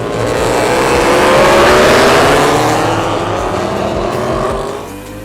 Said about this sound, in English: watching racers driving through like this